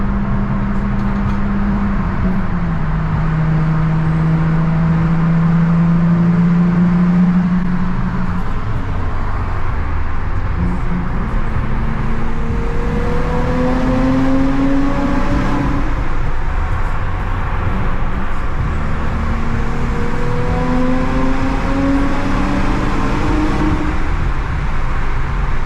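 An Audi S4 drives through a tunnel, a loud, constant engine drone and road roar with tones that rise and fall as it shifts gears, heard from inside the car with no talk.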